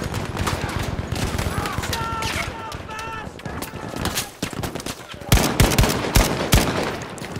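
Battlefield 5 multiplayer battle with dense rapid gunfire and scattered shots, some louder near bursts toward the end, with voices speaking over the din throughout.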